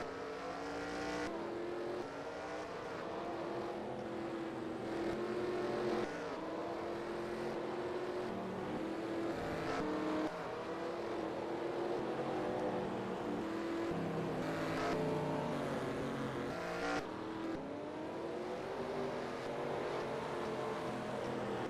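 NASCAR race cars from a Talladega video game race roar along pit road, with engine notes rising and falling repeatedly and cars continually passing close by throughout, with no talk.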